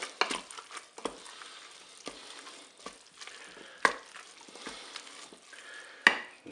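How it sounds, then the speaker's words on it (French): Chicken and spaghetti mixture with mustard stirred in a Cookeo multicooker, with faint soft scraping and a few sharp utensil knocks against the bowl scattered over a quiet background, no voices. "vous mélangez"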